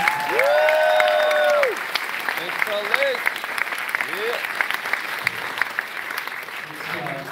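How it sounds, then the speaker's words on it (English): An audience at a Turning Point USA campus event at CSULB in California bursts into loud applause that opens with shrill whistles, then settles into steady, even clapping from the crowd. "So if we just give a round of applause"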